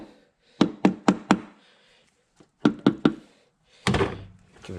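A Honda Odyssey valve cover is tapped on the cylinder head to break the gasket seal loose: two close bursts of four sharp knocks each, then a heavier thud with a brief rattle, all close and alone.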